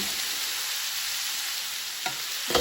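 Lamb meatballs simmer in a covered pan with a steady, soft sizzle and bubbling hiss, joined by a couple of brief louder clicks or clatters near the end.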